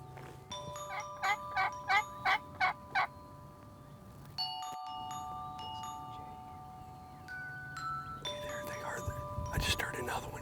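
Wild turkey hens calling at dawn, a run of six evenly spaced clucks and yelps up front, then scattered calls over steady tonal background hum and a rising burst of calls near the end.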